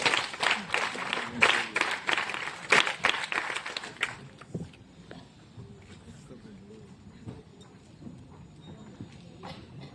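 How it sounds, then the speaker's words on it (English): NCC cadets at a naval ceremony clap in a brief, loud burst of crisp hand claps that fades out after about four seconds, leaving quieter background sounds. "NCC clap शुरू कर"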